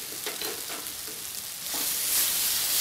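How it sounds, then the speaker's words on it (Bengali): A pan of raw mango chutney with turmeric and Kashmiri chilli powder sizzles close by while it is stirred, with light scraping taps early on and a louder hiss building toward the end. "আবার একটু নাড়াচাড়া করে নিচ্ছি।"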